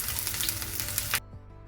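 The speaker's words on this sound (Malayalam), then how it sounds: "കറിവേപ്പിലയും പച്ചമുളകും വറ്റൽമുളകും ഒക്കെ മൂത്തിട്ടുണ്ട്." Sliced green chillies frying in hot oil with popped mustard seeds give a crackling sizzle that cuts off abruptly, leaving a faint quiet tail.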